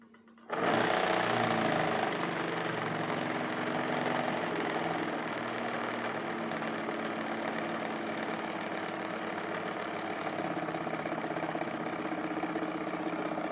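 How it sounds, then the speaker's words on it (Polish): A BLHF-RM brushless hybrid fast rotation synchronous motor starts under propeller load, switching on abruptly into a steady, dense whirring drone with mechanical buzz that holds at constant loudness throughout. "przystępuję do załączenia maszyny synchronicznej"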